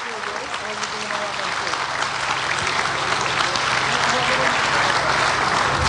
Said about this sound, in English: Let's give them another round of applause and to all of the participants.